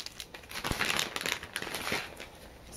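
A big plastic bag of K-pop star cards crinkles and rustles steadily, close and quiet, with irregular crackling bursts and no talking.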